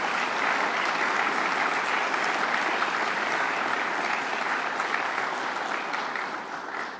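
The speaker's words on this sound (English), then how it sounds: "Let's give him a round of applause, Bob Duffy." Sustained audience applause for Lieutenant Governor Bob Duffy at a state budget signing in Oswego, a dense steady clatter of many hands that holds evenly for several seconds before starting to fade at the end.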